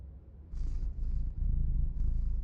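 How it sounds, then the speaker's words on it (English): A domestic cat purrs right against the microphone, a deep, rough, continuous rumble that swells in rhythmic breaths, loud and close with no talking. "Listen to that purr."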